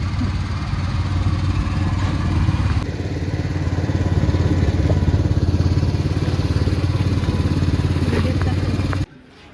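A boat engine drones steadily and loudly throughout a river boat ride, a constant rumbling chug that cuts off near the end.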